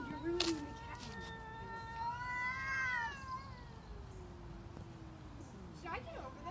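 A cat meows in a cat video played for a house cat, with a long drawn-out wailing meow and shorter calls, fairly quiet and mixed with faint background sounds.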